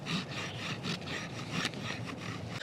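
A Grande Fratello Serbian cleaver scraping and carving fine shavings from wood in short, repeated rasping strokes, close and fairly quiet with no talk.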